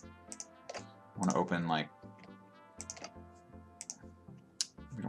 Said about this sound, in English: I'm gonna hold control and click